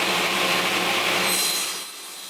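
Wooden apron pieces for a side table being sawn to length, a steady broadband rasp from the cut that runs about a second and a half, then thins and fades out as the blade clears the workpiece.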